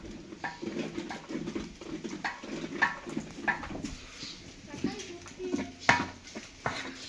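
Food is stirred in a cooking pot with repeated scraping and clinking of a utensil against metal in an irregular rhythm, close and fairly soft, while people talk nearby.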